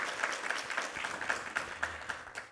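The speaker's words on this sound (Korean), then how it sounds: "함께 한번 격려 박수 부탁합니다" Congregation clapping in encouragement during a Sunday church service, a moderate scattered round of applause with individual claps standing out rhythmically, fairly soft and without talk.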